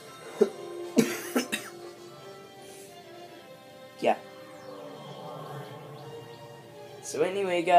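A person coughs several times close to the microphone, with sharp separate bursts spread across the stretch and quiet gaps between them, then some speech near the end.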